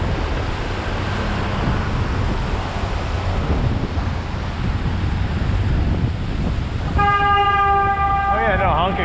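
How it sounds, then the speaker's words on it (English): A car horn sounds near the end, a steady blaring tone over constant wind and New York City street noise heard from a bicycle. "Oh yeah, no, honking works."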